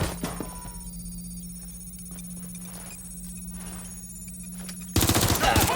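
Gunfire in the video game Watch Dogs Legion: a low steady hum and scattered faint pops give way at the end to a loud, rapid burst of automatic fire.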